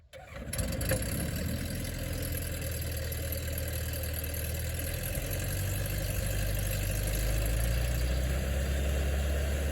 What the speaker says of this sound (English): The Austrian engine also starts promptly, making its characteristic buzzing sound.